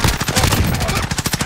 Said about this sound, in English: There's a lot of shooting going on near us.